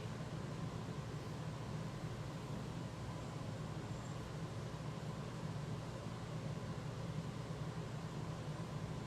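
An air purifier runs at a steady, even whir with a low hum and broadband airflow hiss, faint and constant throughout, with no talk.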